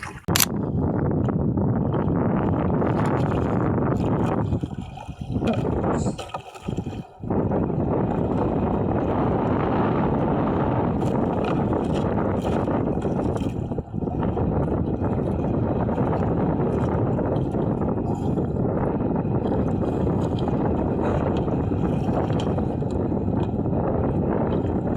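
A strong northeast monsoon wind at sea roars steadily and loudly into the microphone, with continuous buffeting and a brief lull near the middle, aboard a boat at a fish trap.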